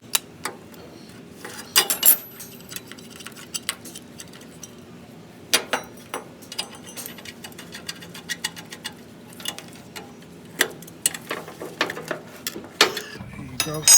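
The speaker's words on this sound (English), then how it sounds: "So go ahead and grab your standard 22 wrench." A 22 mm wrench turns an O2 sensor on a 2020 Toyota Tacoma during a catalytic converter swap, giving scattered metallic clicks, ratcheting taps and clanks, close and irregular, with a brief scrape at the end.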